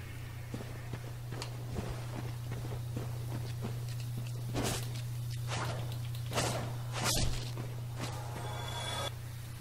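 Footsteps in the video game Dark Souls, a run of soft thuds and scuffs over a low steady hum, with several louder steps toward the middle and end.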